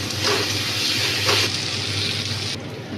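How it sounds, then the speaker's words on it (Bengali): Water is poured into a pan of frying cauliflower, potato and spices, giving a close, steady rushing gush with a continuous hiss and no one speaking. "এবার জল দিয়ে দেবো।"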